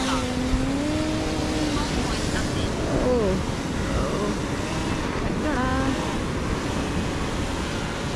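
A fishing drone lifts off on a windy beach, its motors whining in a rising, wavering hum over constant wind and surf noise, with faint voices in the background.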